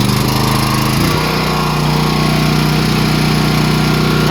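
A small gasoline engine started on choke catches and settles into a loud, steady running drone with a low pulsing hum, filling the whole stretch without talk.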